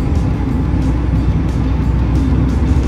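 A Nissan Sentra B13 engine hums steadily from inside the car during a shift into third gear, a low continuous drone heard up close with no talking.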